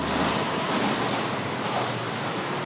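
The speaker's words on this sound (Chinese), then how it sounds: "火车经过台中路的铁桥发出轰隆巨响" A train crosses an old iron railway bridge in Taichung, a loud continuous rumble and roar filling the whole stretch without pause, no voices.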